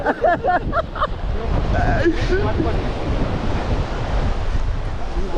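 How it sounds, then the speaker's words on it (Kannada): Strong wind buffets the microphone beside crashing surf, a loud rushing roar; a voice speaks briefly at the start. "ಗಾಳಿ ಸಕ್ಕದ ಬರ್ತಾ ಇದೆ ನೋಡಿ ಫುಲ್ ಚಿಲ್ ಆಗಿದೆ"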